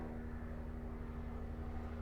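A helicopter in the video game Starfield drones steadily and faintly somewhere out of view, a low, continuous rumbling whir with no voices over it.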